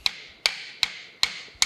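A small brass hammer taps the loosened compound of a metal lathe that is turning a cast iron gear blank. Five sharp, close metallic taps land at an even, steady pace with nothing else heard between them.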